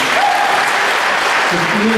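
Steady audience applause fills an awards ceremony hall, dense and sustained throughout, with a voice speaking over it in places.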